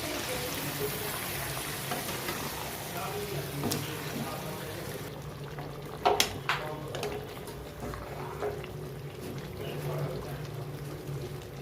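Chicken pieces dropped into hot white oil with whole garam masala, bay leaf and dried red chillies in a kadai, giving a steady close sizzle and frying hiss with a brief clatter midway. A voice may be faintly present.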